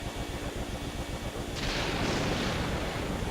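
In Luigi's Mansion, a ceiling fan whirs with a steady rhythmic chop as it speeds up, then breaks into a loud, noisy burst that lingers to the end.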